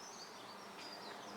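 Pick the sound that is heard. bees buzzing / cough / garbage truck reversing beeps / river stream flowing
bees buzzing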